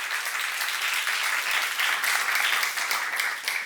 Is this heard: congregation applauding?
yes